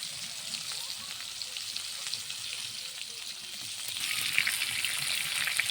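Fresh fish fries in oil in a pan with a soft, steady crackling sizzle that grows a little louder toward the end, with no talking.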